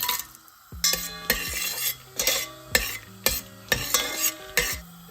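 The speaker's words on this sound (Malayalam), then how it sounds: "ഓയിലും ഗീയും ചൂടായിട്ടുണ്ട്. അതിലേക്ക് ആദ്യം നമുക്ക് ഈ ഹോൾ സ്പൈസസ് ഇട്ട് കൊടുക്കാം." Whole spices fry in hot oil and ghee for a masala lamb curry, giving a crackling sizzle punctuated by regular metallic clinks and scrapes of a spoon against the pan, close and fairly loud; no voices.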